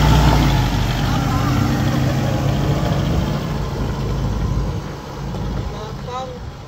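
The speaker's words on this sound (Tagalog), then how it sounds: "Bali, malakas makina niyan." A Toyota Fortuner SUV engine rumbles steadily nearby, a low continuous drone that eases slightly partway through, with a voice faintly under it.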